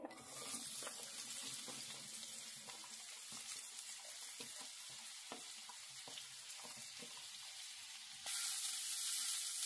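Sliced onion, cut lengthwise, frying in about a tablespoon of hot oil in a pan, a steady close crackling sizzle with light stirring clicks, growing brighter and louder near the end; no talking.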